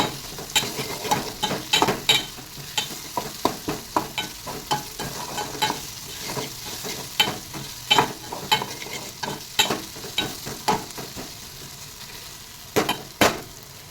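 Bitter gourd curry with tomatoes fries in a pan while a spatula stirs steadily, giving a low sizzle punctuated by regular sharp scrapes and taps against the pan.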